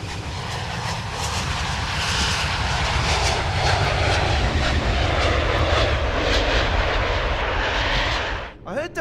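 An EasyJet airliner in Train Sim World 4 passes overhead with a loud, broad jet roar that builds and holds before cutting away abruptly near the end.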